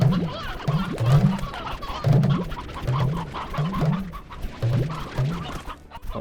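Chickens in the video game Slime Rancher cluck in a steady, repeating rhythm, several short clucks close together at a loud level over a busy background of game ambience.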